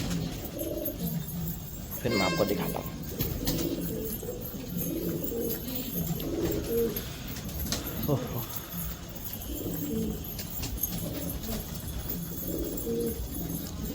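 Pigeons coo in soft, repeated throaty phrases close by, the cooing running steadily through the clip while someone speaks briefly over it.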